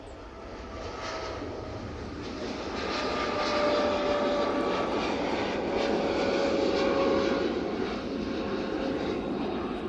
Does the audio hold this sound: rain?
no